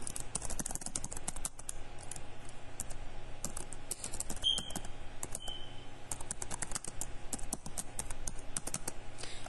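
Continuous typing on a computer keyboard while composing an email message in Gmail, a dense steady run of quick clicky keystrokes at close range, with no talk.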